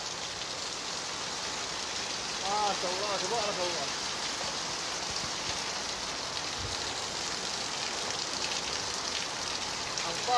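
Heavy rain pours during flooding in Jeddah as a dense, steady hiss of falling water that stays constant throughout, with a few faint chirps briefly rising above it.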